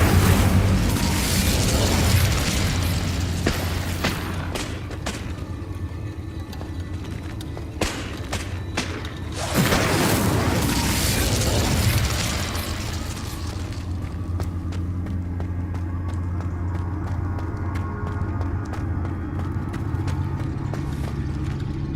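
Confringo spell blasts in Hogwarts Legacy, repeated fiery bursts and booms clustered in two dense loud stretches, then easing to a rumbling ambient background with scattered pops.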